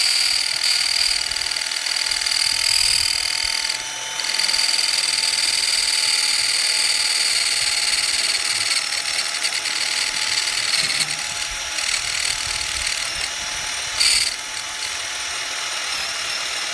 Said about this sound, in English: I don't want to put the stress on the 3/8 of widening one hole and having to drill through another one at the same time